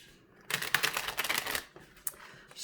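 A deck of tarot cards is shuffled close up, a quick riffling flutter of about a second followed by a couple of soft taps as the cards settle, quiet with no talking.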